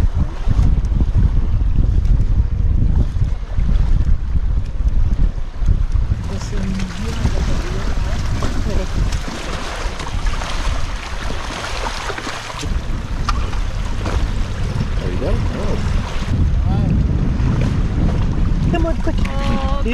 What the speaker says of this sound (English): Low tide, nice and windy.